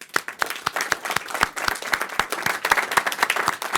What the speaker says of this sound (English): So maybe a round of applause for those winners.